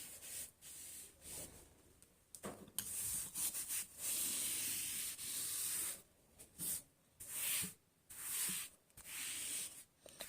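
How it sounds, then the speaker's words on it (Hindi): Repeated scrubbing strokes of an eraser rubbing out written maths work, a steady near friction sound in bursts of varying length with short pauses between strokes, no talk. "तो ये रब कर देते हैं हम"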